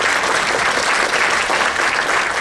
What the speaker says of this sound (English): Maybe a little applause for